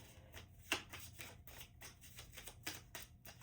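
Tarot cards riffle and snap in quick, uneven bursts, a faint close-up shuffling with rapid papery flicks.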